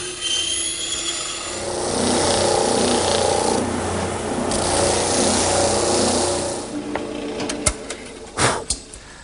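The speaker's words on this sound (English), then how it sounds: "Now I'll just taper the ends a bit here at the bandsaw." A bandsaw cuts tapers into the ends of wooden cleats, a steady whirring drone with a rasping blade that holds for several seconds before the cut ends, followed by a few knocks and clatters of the wood.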